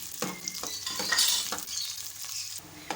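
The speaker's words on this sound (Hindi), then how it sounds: "तो इस प्याज को फ्राई करेंगे सबसे पहले" Onions sizzle and fry in cooking oil for beef biryani while a spoon stirs them in soft scraping strokes, the crackle close and moderately loud with no voices.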